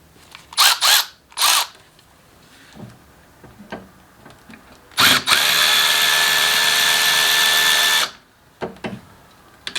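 Power tool, likely a drill or impact driver, working a T30 Torx bolt on the turbo inlet pipe of an Audi RS3, with a steady loud run of about three seconds preceded and followed by short bursts and clicks.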